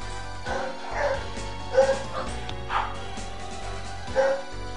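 Several short barks and yips from dogs in the room recur irregularly, with a whimpering edge, over continuous background game music at moderate loudness.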